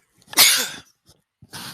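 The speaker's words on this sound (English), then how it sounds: "I might feel another sneeze coming" A single loud, sharp human sneeze close to the mic, a breathy burst that tails off, followed by a short pause and a faint breath or rustle.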